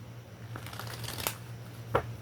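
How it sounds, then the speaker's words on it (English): Playing cards being shuffled by hand during a tarot-style reading, a soft riffling patter with a sharper snap near the end, close-up over a low steady hum, no talk. "Let's shuffle."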